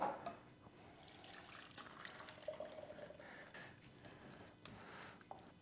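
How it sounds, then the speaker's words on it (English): Au jus is poured through a fine mesh sieve, making a soft, quiet trickle and patter of liquid with a few drips, close by and without talk. "Now I'll pass this through a fine mesh sieve."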